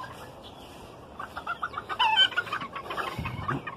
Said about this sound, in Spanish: Y las junté todas otra vez con su gallo